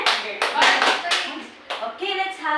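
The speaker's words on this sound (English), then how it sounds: "Give 3 claps to Joanne." A classroom of students gives three quick rounds of clapping, sharp and close, each a burst of many hands, with children's voices chattering between them.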